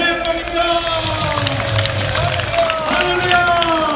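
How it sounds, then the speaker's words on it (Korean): A crowd at an outdoor religious rally near the presidential office applauds and cheers in a steady, loud roar, with voices mixed through it. "하나님께 박수로 영광입니다."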